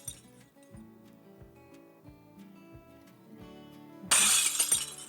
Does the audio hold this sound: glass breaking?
yes